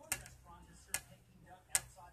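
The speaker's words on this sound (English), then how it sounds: "2 is where you use the tip of the pen" Three light, crisp clicks from the tip of a pen tapped on a coffee table, evenly spaced under a second apart, close but quiet over faint background noise.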